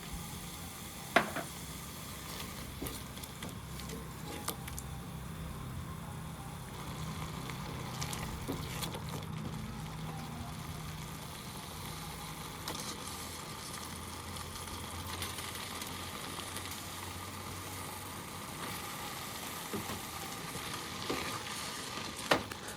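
Boiled pasta is stirred into sizzling tomato sauce with onion, a soft steady sizzle with scraping stirs and a few light clinks, plus a faint low hum, close and without speech.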